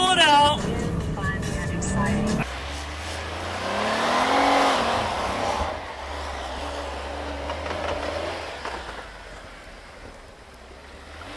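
The stock 3.8-liter engine of a Jeep Wrangler JK on suspension test roads surges under full throttle, its rising, droning roar swelling near mid-clip and then easing off. People talk over the engine.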